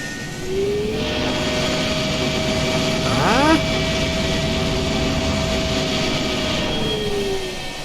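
A loud, steady jet engine roar with a high whine from an F-104 run-up to 50% in Microsoft Flight Simulator 2020, rising slightly partway through as a brief tonal sweep passes.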